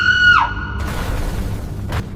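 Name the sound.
woman screaming, horror story sound effect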